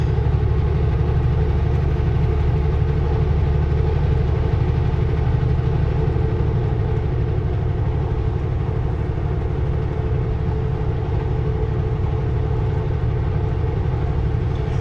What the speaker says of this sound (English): Another really long train.